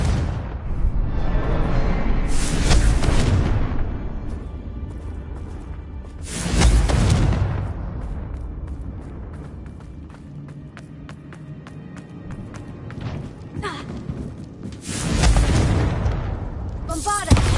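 Confringo and Bombarda spell explosions from Hogwarts Legacy burst out in heavy booming blasts, several loud hits spread across the stretch amid a rumbling game-combat background, with voice heard between some of them.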